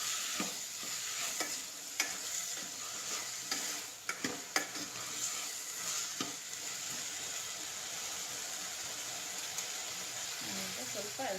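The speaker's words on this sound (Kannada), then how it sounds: "ಇದು ಚೆನ್ನಾಗಿ ಎಣ್ಣೆಲೇ ಒಂದು 2ರಿಂದ 3 ನಿಮಿಷ ಫ್ರೈ ಆಗಬೇಕು" Potato pieces fry in oil for a potato palya with a steady, close sizzle and occasional scraping knocks from stirring.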